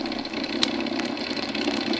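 Aircraft engine number two runs in a steady, close, throbbing idle, its even mechanical rumble continuing without a break and without anyone speaking.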